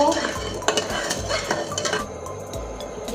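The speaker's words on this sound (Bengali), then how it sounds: "এবার খুন্তি দিয়ে নেড়ে দেব" Hot salted oil in a pan stirred with a metal spatula, loud close scraping and clinks against the pan over a light sizzle, in quick repeated strokes with no talking.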